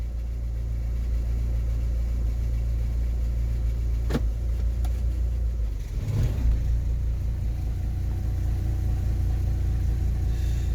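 A car engine idles in a low, steady rumble with the gearbox briefly in reverse to keep it from stalling, a common fault on this car; a short clunk and shift in tone come midway, with no talking.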